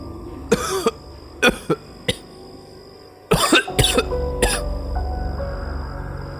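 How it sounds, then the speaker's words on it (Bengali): A man's harsh, hacking cough, performed as a sound effect in a Bengali audio drama, comes in sharp bursts: single coughs at first, then a tight cluster of fits that trails into a lingering rumble. "হঠাৎ স্বামীর খুকখুকে কাশির প্রচণ্ড শব্দে"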